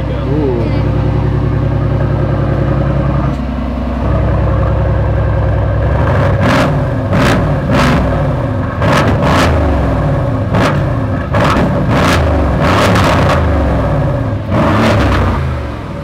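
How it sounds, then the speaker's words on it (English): Car engine revving hard with the exhaust valve opened, loud and close, rising from a steady drone into a series of sharp repeated blips and crackles, with people talking underneath. "You can open up the exhaust too if you'd like."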